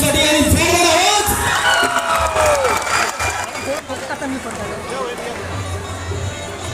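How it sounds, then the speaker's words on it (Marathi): A crowd at a cinema hall event for actor Riteish Deshmukh in Nagpur claps and cheers loudly, a dense roar of applause, whistles and shouts that fades slightly toward the end. "विनंती करतो एकदा परत एकदा जोरदार टाळ्या नितेशजींसाठी आणि जोरदार आवाज"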